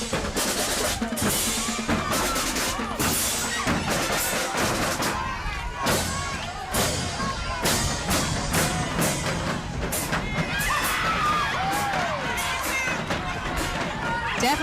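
A parade crowd cheers for a small high school marching band, with steady roaring noise, thumping drum hits and whistles under the music, and a commentator talking over it.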